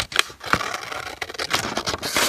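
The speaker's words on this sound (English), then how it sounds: "So I cut off one side and I'm going to cut off the other side." Scissors snip the white margin off a printed paper sheet for an origami necktie heart, giving a run of close, crisp cutting scrapes and rustles at an uneven pace with no talking.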